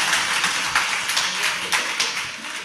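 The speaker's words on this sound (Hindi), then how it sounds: "ये तो बार बार तालियां बजाते हैं" Scattered audience clapping during a religious discourse hall gathering, a brisk uneven patter of hands at moderate volume with individual claps standing out, and no talking over it.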